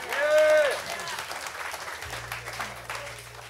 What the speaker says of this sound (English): How about a big hand for J-Man?